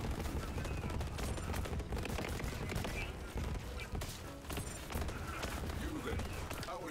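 Rapid gunfire from the Borderlands 3 shooter game, with dense bursts of shots crackling continuously alongside game effects throughout.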